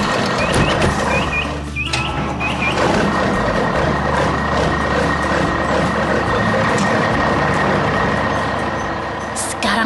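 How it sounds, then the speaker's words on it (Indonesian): A full animated garbage truck rolls along with a steady, loud engine drone, a rapid series of reversing beeps early on, and a constant mechanical hum throughout. "Sekarang truk itu bergerak menuju taman bermain untuk menumpahkan muatannya."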